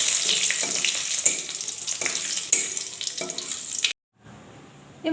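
Whole cumin, whole garam masala and bay leaves sizzle and crackle in hot oil, with bursts of stirring, then a sudden cut and a brief return of the sizzle.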